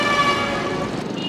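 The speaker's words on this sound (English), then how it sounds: "At low speeds, vehicle engines, transmissions, exhausts and brakes cause most traffic noise." Road traffic with a sustained car horn tone blaring over the hum of engines, loud and brief.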